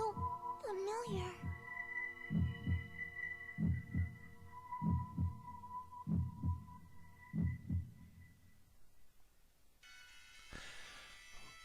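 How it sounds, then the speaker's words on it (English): Anime heartbeat sound effect from Black Clover: steady paired low thumps repeating about a dozen times, loud and close over a sustained hum, with a brief voice at the start and a noisy burst near the end. "A heartbeat?"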